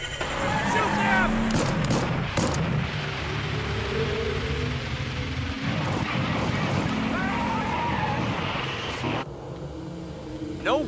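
Bursts of gunfire ring out in the action game Hell is Us, with several sharp cracks cutting through a dense, noisy mix of wind-like rumble and voices, loud and close with an abrupt drop near the end.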